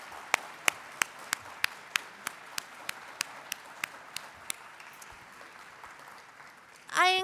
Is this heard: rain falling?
no